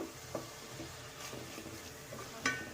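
Ingredients for egg rice fry in oil in a pan, giving a soft, quiet sizzle broken by a few scraping stirs and light clinks from the utensil.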